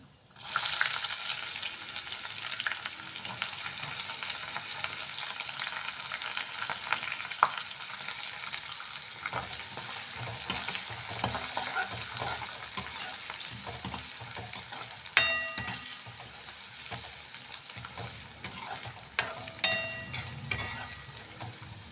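Onion frying in a pan for a wedding-style brinjal and potato curry: a long, steady sizzle with repeated stirring and scraping, a louder scrape near the middle, and no talk.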